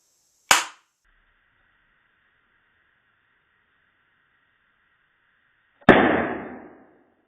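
A loudspeaker connected to 220-volt mains gives a sharp pop, then a long faint electrical hum, ending in a loud bang that crackles and fades out over a second.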